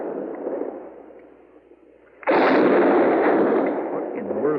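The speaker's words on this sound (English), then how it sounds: "What in the world is he shooting at now?" A single loud Sharps rifle shot cracks in an old-time radio drama, a sudden close blast that cuts through a quieter background and rings on with a long sustained roar.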